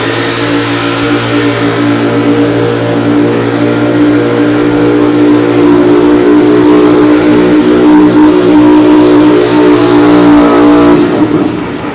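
The Chevrolet pulling truck Flat Broke, from Marysville, California, roars under full throttle while dragging a sled at a Madera, California pull, a loud sustained engine howl building steadily, then dropping sharply at the end.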